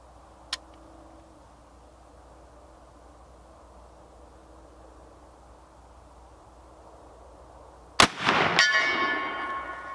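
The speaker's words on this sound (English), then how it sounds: "Nice little ding there, and it swung that target pretty good because that 58 caliber bullet's got a little bit of weight to it" A .58 caliber bullet from an 1861 Springfield rifled musket rings a swinging steel target with one sharp metallic ding, after a faint tick early on and a long quiet stretch, the ring trailing off.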